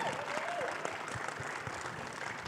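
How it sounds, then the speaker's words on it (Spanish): A festival audience applauds after a literary reading, a dense even patter of clapping hands throughout the short moment, moderately near, with a faint voice over it. "Ay, muchos aplausos y mucho cariño."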